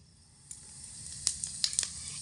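Whole cumin seeds hit hot oil left after frying potatoes for a pea ghugni, giving a soft steady sizzle with a few crisp pops and crackles close by, and no voices.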